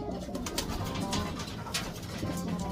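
A sick racing pigeon, kept apart from the flock, coos in soft repeated low murmurs, steady and close over a continuous background hum.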